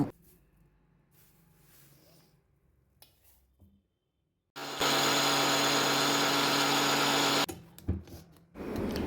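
An electric mixer grinder whirs loudly for about three seconds while grinding garlic and drumstick leaves into powder, starting abruptly and stopping sharply, with quieter handling sounds before and after.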